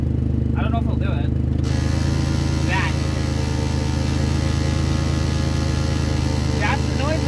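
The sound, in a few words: faulty car transmission noise when shifting into park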